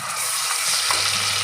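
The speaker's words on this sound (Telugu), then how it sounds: "అల్లం వెల్లుల్లి పేస్ట్ నేను పోపులో యాడ్ చేస్తున్నా." Ginger garlic paste sizzles loudly in hot tempering oil for a tomato dish, a dense continuous frying hiss close up with no talk.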